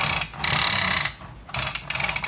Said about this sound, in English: It makes these saw blade sounds